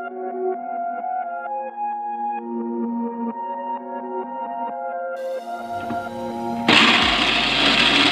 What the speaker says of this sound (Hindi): बूट को धोकर मिक्सी में पीसे जाते हैं।